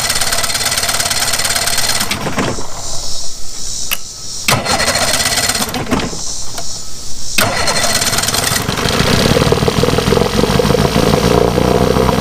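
A 1959 Johnson Super Seahorse 35hp outboard motor cranks and fires, with loud bursts of cranking broken by short pauses before it catches and runs steadily at a rough, high idle to the end.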